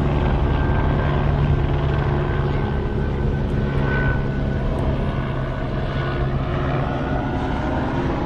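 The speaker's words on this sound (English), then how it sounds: "It's a plane." A large airplane passing overhead outdoors, a steady loud broadband engine roar with a low hum that holds throughout without fading.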